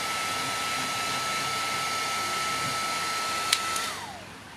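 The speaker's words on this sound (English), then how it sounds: "this heat gun has one setting, on" Makita 18V cordless heat gun blowing hot air over painted timber to strip it, a steady close whooshing hum that winds down at the end.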